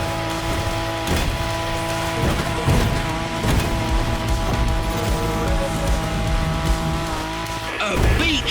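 A Japanese truck racing fast down a shaky descent in The Crew Motorfest, with loud continuous engine roar, rattling thumps and bumps from the suspension, and tire noise throughout.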